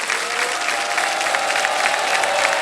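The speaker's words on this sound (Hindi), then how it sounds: "तालियां बज जाए इनके लिए।" Studio audience on a TV quiz show applauds in a full, sustained round of clapping at steady volume, with a faint tonal hum running underneath.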